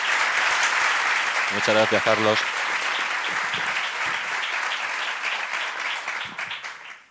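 An audience claps for an author at a book presentation at the Casino de Madrid, a steady, full round of applause running throughout while a voice briefly speaks over it and the clapping tapers at the end.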